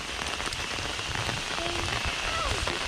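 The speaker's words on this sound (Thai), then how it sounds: "โอ้ฝนตกทั้งวันทุกคน" Heavy rain falls steadily on surfaces around a rural home, a dense, loud, continuous hiss and patter of drops with faint background sounds underneath.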